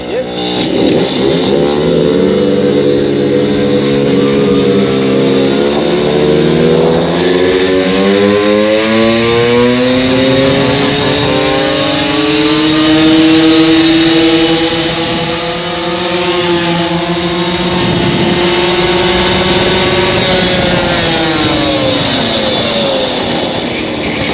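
A tuned Puch Maxi 70cc moped engine rides continuously, a loud buzzing two-stroke drone rising and falling in pitch as it speeds up and eases off over a long stretch, close to the listener.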